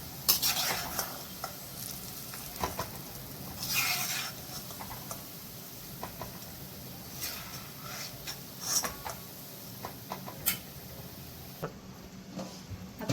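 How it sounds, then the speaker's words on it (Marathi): Fried onion for a chicken and masoor dal pulao is stirred and scraped out of a pan with a spatula, giving soft sizzling and a run of close scraping and clinking strokes with no talking. "तळून झालाय आता हा कांदा मी पूर्णपणे काढून घेते ना बाजूला"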